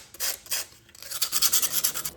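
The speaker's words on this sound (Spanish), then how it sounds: "Cogemos una lija y lijamos un poco." Sandpaper rubs back and forth over the inside of a broken plastic part being repaired, first in a few slow separate strokes, then in quicker rhythmic scratchy passes, close and alone.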